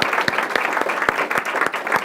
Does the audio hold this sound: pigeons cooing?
no